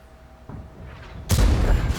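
A tank cannon in World of Tanks fires one heavy booming shot about two-thirds of the way through, a loud deep blast that rumbles on and follows quieter battle ambience, with no one speaking.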